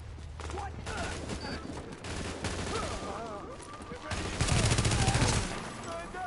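Rapid automatic bursts of submachine gun fire echo inside the Lincoln Tunnel in Tom Clancy's The Division, close and loud, running in repeated volleys with a heavier stretch toward the end.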